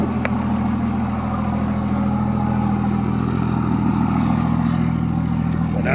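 A truck's engine idles steadily in first gear with four-wheel-drive low engaged, a loud, continuous low rumble with light clatter that holds unbroken throughout, heard close up.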